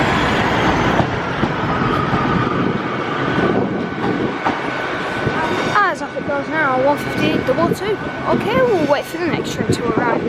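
A Class 150 diesel unit, 150 222, pulls out of Leeds station for Sheffield with a rumbling engine and rolling wheels, while someone talks over it and high wheel squeals ring out toward the end.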